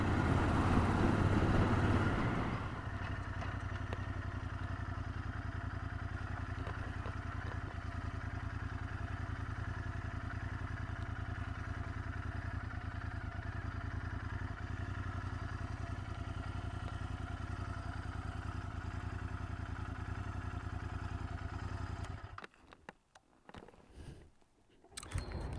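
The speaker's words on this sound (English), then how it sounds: "What will follow is some footage of me just riding the bike" Royal Enfield Interceptor 650 motorcycle riding along, its steady engine drone and wind rush continuous for most of the stretch, then breaking into gusty buffeting as it fades near the end.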